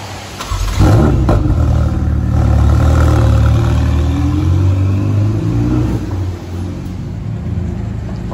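A Maserati MC12 sports car's engine rumbles loudly at close range, rising in a strong low-pitched roar after a brief quiet start and holding steady before easing slightly toward the end.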